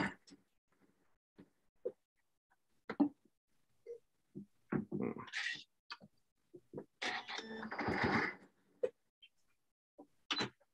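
A sewing machine bastes along the seam allowance of a denim heart pillow in short, quiet bursts of rapid stitching, separated by isolated clicks and near-silent pauses.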